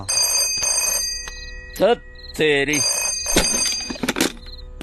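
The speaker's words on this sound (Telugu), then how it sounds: "మీ వాడవడో పొద్దు నుంచి ఫోన్ చేస్తున్నాడు అమ్మా" An electronic telephone ring repeats in short bursts, interrupted by a couple of brief spoken exclamations.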